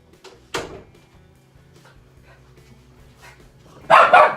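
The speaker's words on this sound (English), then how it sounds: "Sorry, that's again my dog." A dog barks a couple of times in a quiet room: one sharp bark early on, then a louder double bark near the end.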